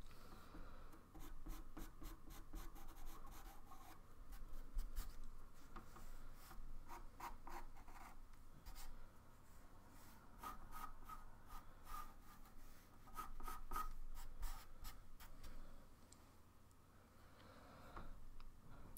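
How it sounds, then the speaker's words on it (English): Pencil scratching across textured pastel paper, a steady dry rubbing with quick ticking strokes that continue closely for the whole stretch with no talk. "Mara, this paper eats the pencil"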